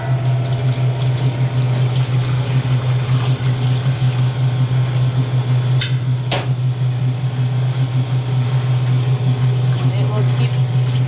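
A Speed Queen wringer washer drains steady rinse water, a continuous loud pump-like hum and rushing flow with a couple of brief clanks near the middle.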